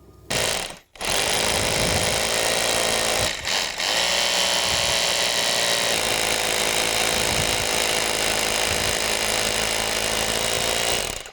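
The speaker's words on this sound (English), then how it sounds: "what we're using here is a handheld hammer drill" A handheld hammer drill bores a hole for a brass safety-cover anchor, loud and continuous, pausing briefly near the start and again around three seconds, then grinding steadily on.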